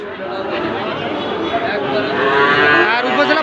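Sahiwal bull calves low at a busy cattle market in Dinajpur. Drawn-out moos rise over a dense background of crowd chatter and voices that continue throughout.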